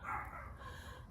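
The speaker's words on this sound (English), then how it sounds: "All these dogs are saying hello." Several dogs barking in short, soft yips at a distance, faint and brief against outdoor ambience, no talk.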